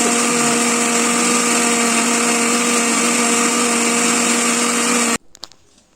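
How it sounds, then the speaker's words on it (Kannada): A mixer grinder grinds coconut and coriander leaves into a paste, a loud steady motor whine held for about five seconds before it cuts off abruptly, leaving only faint handling sounds. "ನಾವು ಇದನ್ನು ಮಿಕ್ಸಿಗೆ ಹಾಕಿ ಸಣ್ಣದಾಗಿ"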